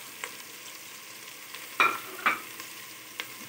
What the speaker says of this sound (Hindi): इनको अच्छी तरह भून लेंगे पहले मसालों को लहसुन अदरक के साथ।